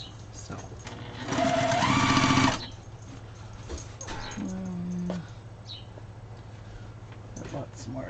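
A sewing machine stitches fabric scraps together in one short, loud burst of rapid needle chatter lasting about a second, followed by quieter handling noises and a dog's brief whimper.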